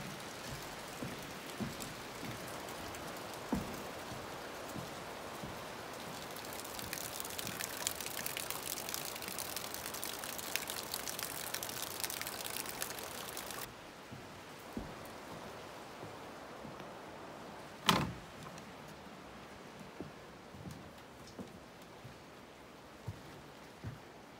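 Rain falls on a cold day, a steady wash of drops that grows heavier midway, then eases to a lighter patter with a few sharp nearby taps.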